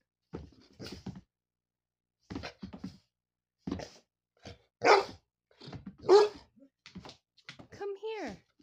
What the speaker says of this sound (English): Pile of bubbles versus a dog.